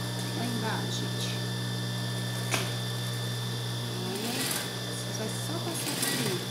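A sewing machine runs steadily while stitching the hem of a child's denim skirt, its motor whirring continuously and close-up under a constant background hum.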